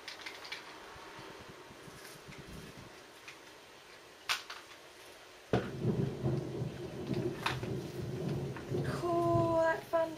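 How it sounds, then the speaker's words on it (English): Thunderstorm with heavy rain: faint rain and a sharp crack of thunder, then a sudden loud downpour pours in midway and continues steadily, with a brief voice near the end. "that thunder. Wow, it's really coming down now."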